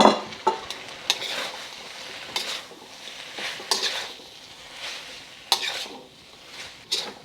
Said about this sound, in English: And so all this beef is going back in to the wok.